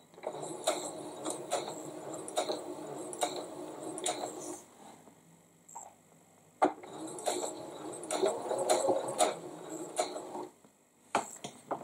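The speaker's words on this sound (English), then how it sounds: "So we want to do the same and go back stitches and then forward again." A sewing machine stitches backward and then forward through quilting fabric, two close runs of rapid mechanical whirring and clatter split by a short pause, ending with a few isolated clicks.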